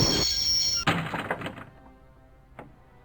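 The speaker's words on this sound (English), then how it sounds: "I'd always wanted to stop the train, and now was my chance." A train grinds to a halt in Broken Sword: The Shadow of the Templars: loud mechanical rumble and screech, then a heavy clunk as the noise falls away, followed by a single faint knock.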